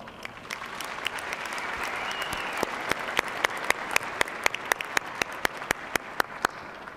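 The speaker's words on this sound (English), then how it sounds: "generous round of applause?" An audience at a university commencement evening ceremony gives sustained applause, a dense wash of clapping with individual sharp claps standing out in a steady rhythm.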